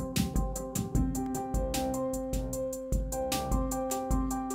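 A new MIDI clip converted from a harmony plays back in Ableton Live 9, a steady sequence of layered synthesized chords and notes with regular attacks, loud and close, with no talk.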